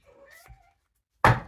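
A house cat gives a short meow, then after a pause a louder, sharper cry or thump close by, with no talking.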